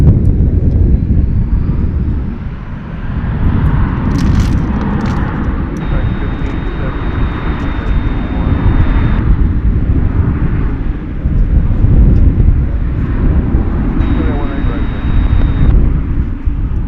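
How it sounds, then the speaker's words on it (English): Airbus A321 airliner taking off at DFW Airport, a loud continuous roar of jet engines with wind buffeting, steady throughout as it departs, while someone talks over it. "We're going to be seeing another plane off here. A smaller plane, an Airbus A321 going to Phoenix, no, Portland, Oregon."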